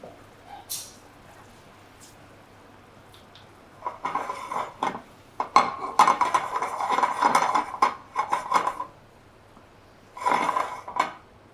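A pan of caramel-and-raisin bread pudding gets shaken, giving a few clattering metal-on-metal rattles and clinks in bursts, close and moderately loud with quiet gaps between.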